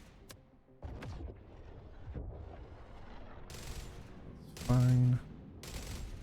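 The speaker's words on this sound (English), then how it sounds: "Gets a bit overexcited with that turret. Just shooting at anything." A railgun turret firing in the Jump Ship space game, several sharp blasts with bright bursts, one long loud tonal discharge near the end, over low rumbling action and a brief spoken word.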